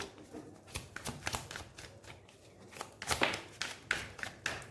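Tarot cards are shuffled and drawn by hand, giving a run of close, crisp riffling bursts and soft slaps that come in quick irregular clusters.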